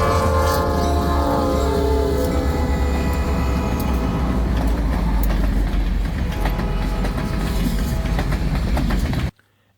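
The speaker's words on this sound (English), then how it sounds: "And there comes a train" A train rumbles past close by with a loud, sustained horn blast and the steady clatter of rail cars, ending abruptly near the end.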